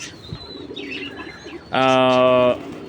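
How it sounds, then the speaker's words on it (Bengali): A single loud, harmonic call from a silver racer pigeon bursts in for under a second against quiet background murmur, clear and close to the listener. "এই যে আমার বাসার খুব সুন্দরই একটা কবুতর সেটা হলো সিলভার রেসার"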